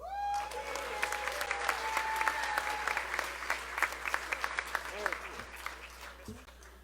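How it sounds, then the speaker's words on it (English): An audience at a political rally claps steadily for several seconds, a dense patter of hands that thins toward the end, with a voice speaking briefly over it. "Give them a round of applause."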